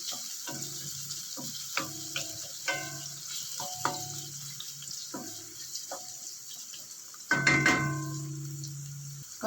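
Onion and garlic sautéing in a pan, heard as soft intermittent sizzling with scattered clinks and scrapes of stirring, then a louder burst of sizzle near the end.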